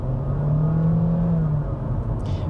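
Honda Jazz e:HEV Crosstar hybrid's 1.5-litre four-cylinder engine revving hard under full acceleration, a loud sustained drone holding a steady strained pitch, with no voices over it.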